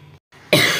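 Someone drawing a Goku sketch gives a single sharp, loud cough close to the microphone after a brief quiet moment.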